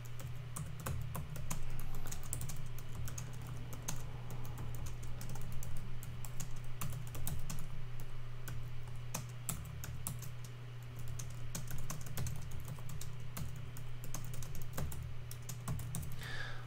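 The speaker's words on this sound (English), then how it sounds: "I'm typing this" Continuous typing on a computer keyboard, rapid irregular key clicks close to the microphone over a steady low electrical hum, with no talking.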